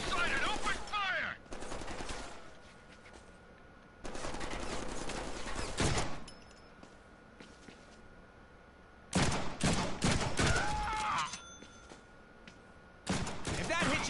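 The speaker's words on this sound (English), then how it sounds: "Hostile sighted. Open fire!" Bursts of gunfire in the Deadpool video game, several rapid fusillades separated by quieter gaps, loud and close, with game voices talking between volleys.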